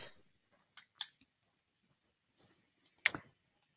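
A few sharp computer mouse clicks, quiet and close, in sparse pairs separated by near silence.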